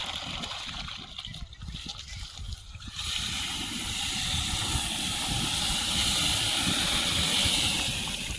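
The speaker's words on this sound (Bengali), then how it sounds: "এতক্ষণ জল দিচ্ছিলে, অত জল তো বেরিয়ে আসছে।" Water rushes out under pressure during a tubewell installation, beginning with a rough, splashy gurgle and after about three seconds turning into a loud, steady, hissing gush that carries on close by to the end, with no talking.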